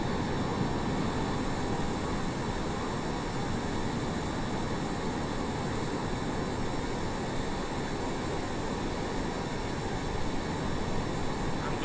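Jet engine of a YuJet aircraft in Microsoft Flight Simulator, a steady, loud roar with a sustained high whine throughout, heard from outside the plane with no talk.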